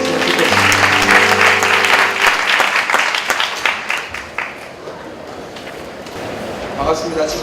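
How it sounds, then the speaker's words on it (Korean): An audience at a church school event bursts into loud clapping that peaks early then thins into scattered claps, with a sustained musical tone underneath at the start and voices near the end. "박수로 맞이해주셨으면 좋겠습니다"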